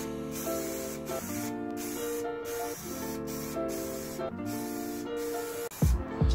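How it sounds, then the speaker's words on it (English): A spray can applies primer to a BMW E36 rear bash bar in close, loud hissing bursts, several sprays a second or so long separated by short breaks, ending with a clatter. "it's a good thing not to leave your can spraying in one place too long"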